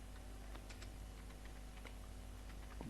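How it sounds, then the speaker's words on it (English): Rapid clicking of a computer keyboard, with keystrokes coming in quick irregular bursts. It is faint and close over a steady low hum, with no talking. "If I type again,"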